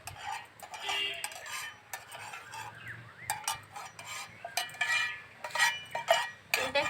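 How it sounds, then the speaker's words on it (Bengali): A metal utensil scrapes and clinks across a hot tawa while spreading oil, giving irregular close scratching and tapping strokes over a faint background hiss. "তেলটা একটু ছড়িয়ে দিই ভালো করে"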